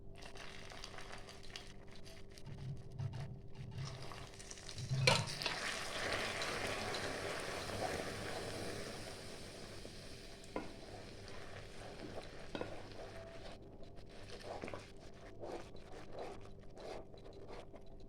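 Soft scraping and swishing of a spoon stirring warm milk into curd in a bowl for sweet yogurt, intermittent and faint with occasional clinks.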